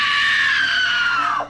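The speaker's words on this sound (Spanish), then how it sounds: "escuchó un grito desgarrador" A single piercing scream, loud and close, held for over a second before its pitch drops and it cuts off abruptly.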